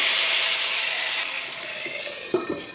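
Hot tempering with curry leaves poured into a pot of mutton curry gives a loud, steady hiss and rush that slowly fades, ending with a couple of soft clunks close by.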